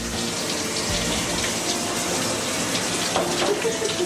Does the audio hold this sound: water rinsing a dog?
yes